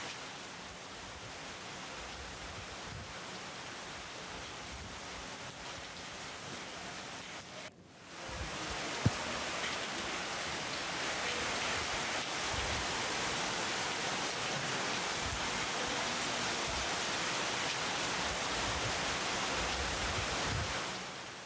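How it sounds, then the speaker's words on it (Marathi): Heavy monsoon rain and rushing floodwater in Palghar make a dense, unbroken roar of water, steady and fairly loud, with a brief dip partway through before the downpour continues. "पालघर जिल्ह्याला पावसानं अक्षरशः धुवून काढलंय"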